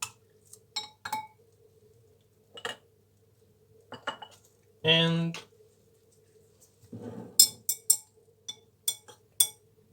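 A glass thermometer used as a stir rod clinks and taps against a glass jar of water mixed with silver nanoparticles, a series of sharp separate chinks with a short rattling burst, a few spoken words between.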